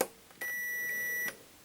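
A multimeter in continuity mode gives one steady electronic beep, just under a second long, while probing an LED TV backlight strip during repair. It sounds close and clear against a quiet background.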